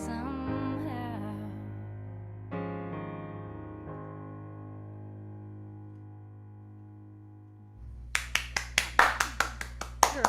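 Sparse, sharp claps ring out close to an unmuted microphone at the end of an online home concert, coming in an uneven run of about ten hits right after a sustained sung and instrumental tone fades.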